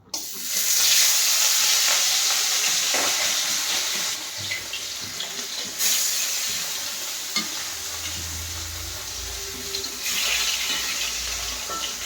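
Fish fries in hot oil, a loud continuous hiss and crackle that starts abruptly and stays strong, softening slightly later as a low rumble enters, with no talking over it.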